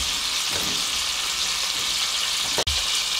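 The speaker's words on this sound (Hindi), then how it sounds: "और जो दूसरे कोफ्ते हैं वो भी हम इसी तरीके से इसको इसके अंदर डाल के इनको फ्राई कर लेते हैं" Sweet potato koftas fry in hot ghee with a steady, bright sizzle that holds evenly throughout, broken once by a brief sharp click near the end.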